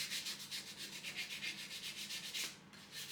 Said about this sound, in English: Not just the shaft which has to be sanded.